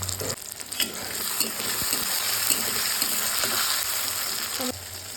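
Tomatoes fry in a pan with a loud, steady sizzle while being stirred, with occasional scrapes and clinks throughout.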